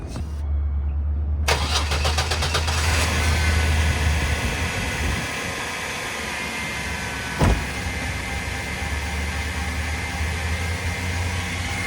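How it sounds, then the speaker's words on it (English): A car engine cranks and catches in Death Valley, then settles into a steady idle with a faint whine and a brief clunk midway. "So let's start up the engine."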